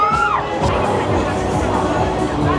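Screams and shouts from riders on the Zeus amusement ride at the New York State Fair, a dense, loud wash of crowd noise and cheering with voices overlapping throughout.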